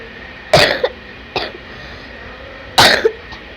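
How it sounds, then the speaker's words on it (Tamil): Three harsh coughs from one person, the first and last loud and close with a short rasping tail, the middle one softer, spaced apart over a quiet background. "அந்த இருமல் ஒன்றும் என்னைய விட்டு போக மாட்டேங்குது"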